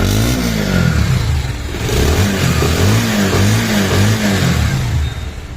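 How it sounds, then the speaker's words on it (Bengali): A 2022 Bajaj Pulsar 150cc motorcycle engine is revved with the throttle, loud and close, rising and falling in repeated surges of exhaust roar. "এবার আমরা অ্যাক্সিলেটার দিয়ে সাউন্ডটা শুনি।"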